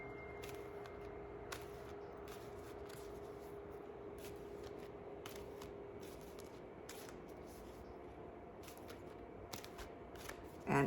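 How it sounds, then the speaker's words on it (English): A deck of angel cards being shuffled by hand, a close, quiet series of crisp riffling bursts repeated in an uneven rhythm over a faint steady hum, no talking. "we're going to shuffle this deck right here"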